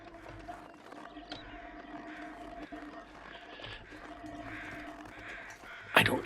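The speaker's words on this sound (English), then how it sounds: "I hear birds." Crows caw in the wintry wilderness of the survival game The Long Dark, several calls rising over a steady ambient wind bed before a sharper burst near the end.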